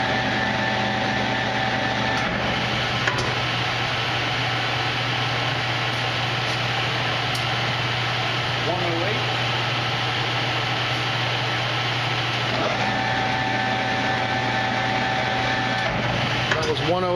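Victor lathe running steadily at 75 RPM, a constant mechanical hum and whir with tonal whine, continuous and close for the whole stretch with small clicks.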